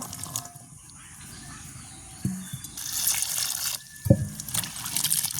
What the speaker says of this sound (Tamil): நாங்கள் இன்னும் ஒரு கழுவி எடுப்போம்